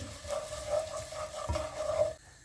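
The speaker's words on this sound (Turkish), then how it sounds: "Tereyağı eriyince içerisine yarım su bardağı şehriyemi attım ve kavuruyorum." Half a cup of vermicelli roasting in melted butter for chicken soup, stirred in the pan with soft scraping strokes over a low, steady sizzle, close and moderately quiet, with no talking.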